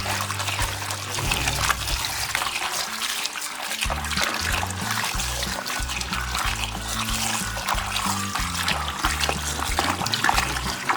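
Running water trickles and pours steadily over cut potatoes being rinsed for french fries, a continuous close splashing flow over soft background music with no talk.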